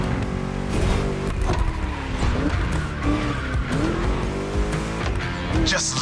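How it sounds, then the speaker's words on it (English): A roaring V8 muscle car engine in the racing game The Crew Motorfest revs and shifts over sustained tire squeal, loud and continuous, with rising and falling pitch. "Just listen to that V8 like a chunky, down-tuned guitar riff."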